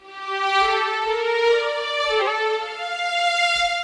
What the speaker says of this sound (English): The demo really blew me away with the legato